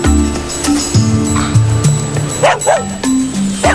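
A dog barks and yips repeatedly in short, close bursts outdoors in the cold after an avalanche, with brief whimper-like sounds between barks and a faint voice in the background.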